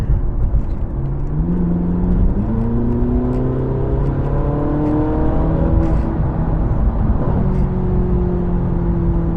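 A Ferrari 458 Italia's 4.5-litre naturally aspirated V8 revs continuously, pitch climbing and dropping through shifts, a sustained high-revving roar with no talking.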